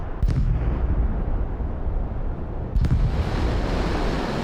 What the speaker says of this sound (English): Some nice sonic booms in there.